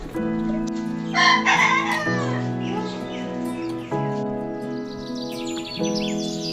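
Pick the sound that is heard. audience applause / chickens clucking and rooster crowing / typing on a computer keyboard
chickens clucking and rooster crowing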